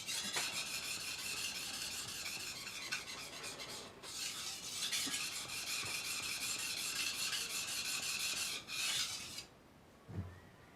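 A blade rubbed back and forth on a 10000 grit sharpening stone, a close, steady rasping scrape in long continuous strokes with brief pauses, ending in quiet with a couple of soft knocks.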